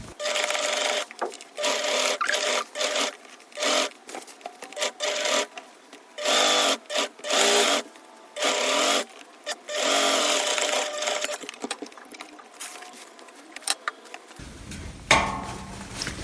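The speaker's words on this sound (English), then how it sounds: "we're going to sew the other side now" A sewing machine runs along the side seam of a cosplay bodice in bursts of rapid mechanical stitching, starting and stopping repeatedly, close and fairly loud, with no talking.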